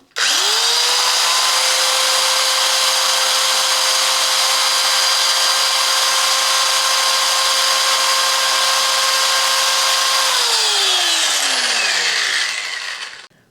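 A corded power tool powered by an ALLPOWERS R600 600W portable power station spins up quickly, then holds a loud, steady whine for about ten seconds before winding down to a stop. The tool runs alone, close and prominent.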